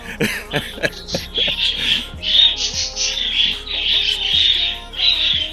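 Pet birds chirp and tweet continuously nearby, bright overlapping calls with a few sharper clicks early on, no talking.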